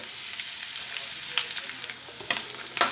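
Carrot pieces fry in oil in a pan, a soft continuous sizzle broken by a few brief scraping stirs, close and fairly quiet, no voices.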